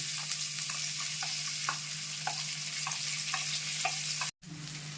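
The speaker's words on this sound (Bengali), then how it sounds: "বড় একটা দুটো পেঁয়াজ কুচি রেখেছিলাম, সেইগুলো কেটে সেটা দিয়ে দিচ্ছি।" Chopped onions and three bay leaves frying in hot oil for matar paneer, a continuous close sizzle with soft crackles and occasional stirring scrapes and a low steady hum beneath, broken by a brief silent gap near the end.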